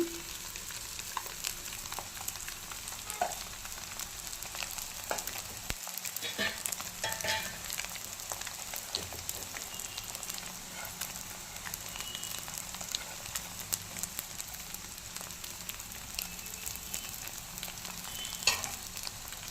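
A spatula mixes cooked rice in a hot pan, giving a continuous low sizzle with scattered scraping and clicking strokes of the utensil against the pan, steady and close.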